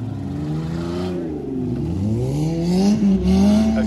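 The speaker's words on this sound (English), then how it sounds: "Let's see a flat tire burnout." All-wheel-drive four-cylinder derby car running on a flat tire, its engine revving loud and close in a sustained rising and falling whine with a rough scraping undertone throughout.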